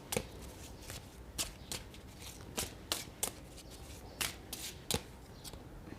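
Tarot cards being shuffled by hand, a run of soft papery riffles and sharp snaps at an uneven pace, close and fairly quiet with no talking.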